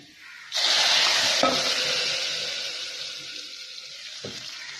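Hot tempering (baghar) with white cumin poured into cooked arhar dal, a sudden loud burst of sizzling that hisses strongly then gradually fades, ending with a faint knock; no speech.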